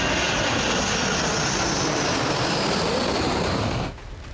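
A B-1 Lancer bomber at an RAF airfield in Gloucestershire roars with a loud, steady jet-engine rush that holds constant, then drops off sharply near the end.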